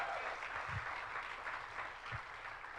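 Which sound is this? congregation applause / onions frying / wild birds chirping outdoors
congregation applause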